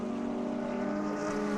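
Race cars at the Asian Le Mans Series at Inje, engines droning steadily past at a constant pitch for a short moment with no talk over it.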